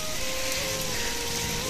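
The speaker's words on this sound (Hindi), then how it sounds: "धूप भी लगी हुई है और बारिश भी हो रही है अभी साथ साथ में" Rain falls during sunshine in hilly Uttarakhand, a soft steady patter of drops on surfaces, faint and brief with no talking.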